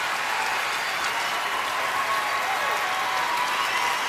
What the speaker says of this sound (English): And this crowd giving her a standing ovation